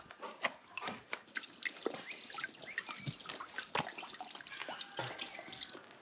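Water drips and splashes steadily from a tap for a large dog to drink at a trailside bunk, close and continuous with irregular patters of droplets and no talking.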